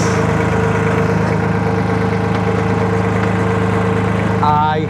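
Tractor engine idling steadily and loud throughout as an equipment trailer tilts down, with a low droning hum and a brief higher whine near the end.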